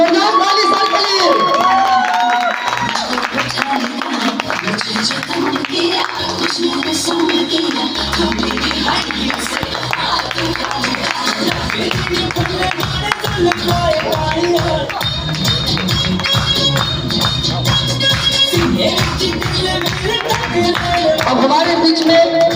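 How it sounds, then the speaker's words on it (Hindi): An audience applauds loudly for someone receiving a medal at an indoor award ceremony, dense continuous clapping and crowd noise running steadily from start to finish, with talking in the clip under the applause. "जोरदार ताली सर के लिए।"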